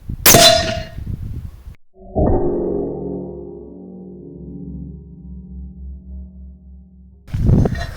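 A sharp rifle shot cracks, then the bullet strikes a steel plate used as a shooting gong, which rings with a long, resonant metallic tone that slowly fades before another loud report.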